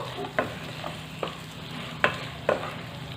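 A spoon stirs a farali dish in a pan with a soft background sizzle, and about five sharp scraping clinks land at irregular intervals. The sounds are close and fairly quiet, with no talking.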